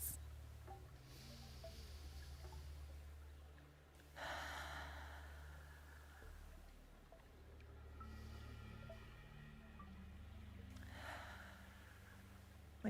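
Slow, deep breathing during a seated chair yoga session, long soft inhales and exhales rising and falling in quiet cycles with a low steady hum beneath, no talking.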